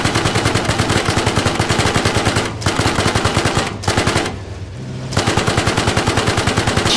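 Rapid automatic gunfire rattles in a video game, loud sustained bursts broken by two short pauses and one longer gap before the firing resumes.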